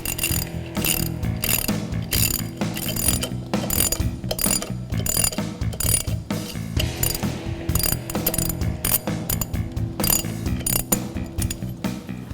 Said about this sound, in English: And as you tighten them, you want to make sure you tighten them evenly. Just work your way around. Kind of do the star pattern.